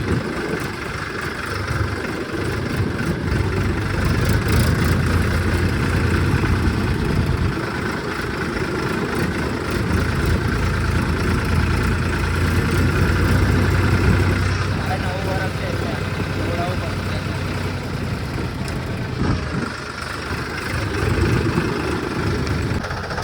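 A tractor engine idling outdoors while waiting in a line of vehicles, a continuous low rumbling drone under people talking nearby.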